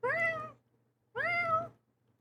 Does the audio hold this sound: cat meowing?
yes